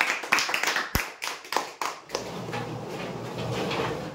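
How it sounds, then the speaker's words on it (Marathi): At a weekly prize draw, a small crowd gives a short burst of scattered hand claps, close and uneven, fading into a softer murmur of clapping and room noise. "जोरदार टाळ्या होत्या।"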